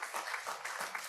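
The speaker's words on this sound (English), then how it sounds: "you can applaud him for sure" Audience applause at a Rosh Hashanah evening service, a steady wash of many hands clapping at moderate level, pulsing slightly throughout with no talk over it.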